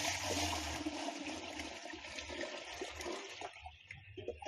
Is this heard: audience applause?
no